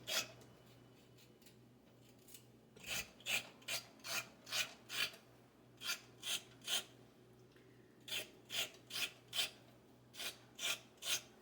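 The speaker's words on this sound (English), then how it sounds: "I just scrape it off with my knife." A knife blade scrapes the skin off a single carrot in rhythmic strokes: a few early ones, then steady runs of short rasping passes with brief pauses between, close and fairly quiet, no voice.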